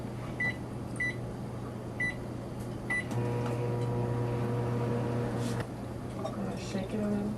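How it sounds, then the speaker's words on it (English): A microwave oven hums steadily in a biology lab, with several short electronic beeps at the start and the motor drone continuing while a person speaks quietly nearby. "And then we'll put it in the microwave"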